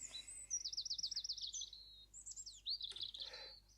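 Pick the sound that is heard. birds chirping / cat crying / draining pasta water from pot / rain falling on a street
birds chirping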